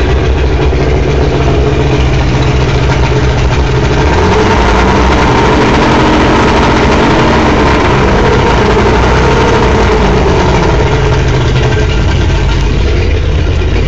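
Loud, close engine noise from a Mercury 175 outboard motor on a cold startup, holding a steady running drone with a slight swell as the throttle is revved.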